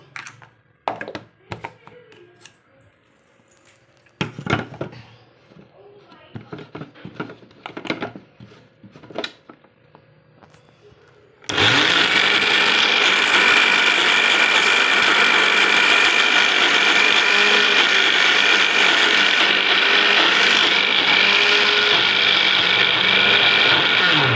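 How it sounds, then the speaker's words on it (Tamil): Mixer grinder whirring steadily and loud as it grinds boiled potatoes in a Tamil kitchen, switching on abruptly after scattered handling clatter and running continuously to the end. "இப்போ நாம் இந்த உருளைக்கிழங்கையும் இந்த மிக்சியில் போட்டு நம்ம அரைச்சி சேர்த்துருவோம்"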